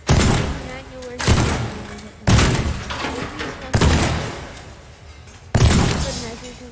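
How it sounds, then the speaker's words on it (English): Five loud, sharp gunshot bangs at irregular intervals in the video game Teardown, each decaying quickly, heard close and alone. "I'm gonna shoot at the light."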